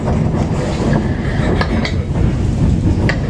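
Steady rumble and rattle of a moving 13-car passenger train in Alaska heard from inside the seventh car, with faint clicks of wheels over track joints.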